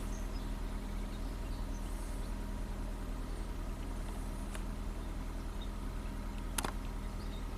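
A repaired Ford Fiesta engine idles steadily with a low, constant hum, near and alone, with a brief sharp click near the end.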